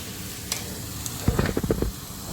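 Frozen peas fry in butter for pav bhaji. Quiet at first, the pan breaks into a burst of sizzling and stirring scrapes midway that carries on to the end, with no voices.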